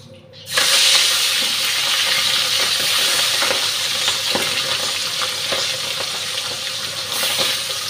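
Pabda fish hits hot oil and fries with a loud, sudden sizzle that settles into a steady, close, crackling hiss with scattered pops.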